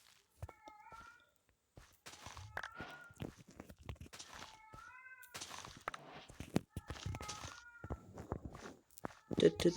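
A pet cat meows repeatedly in short, tonal calls spread through a stretch of constant clicking and tapping, with faint voices under it.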